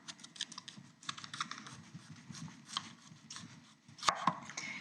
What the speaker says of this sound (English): Now we're going to cut our cutlets.